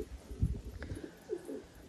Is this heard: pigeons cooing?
yes